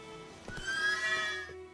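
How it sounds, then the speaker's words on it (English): Horse in The Witcher 3: Wild Hunt video game gives a short, bright whinny with a few hoof clip-clops around it, close and clear against quiet game ambience, with no talking. "Luckily, Geralt can always count on his horse Roach to help him on his travels."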